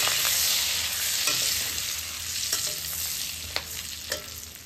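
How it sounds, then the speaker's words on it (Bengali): Chopped green chillies and bay leaves frying in hot oil are stirred in a pan while cooking a shrimp dish, giving a steady bright sizzle with a few soft scraping stirs and no voices. "কেটে রাখা কাঁচা লঙ্কা, একটু হালকা নাড়াচাড়া করে নেব।"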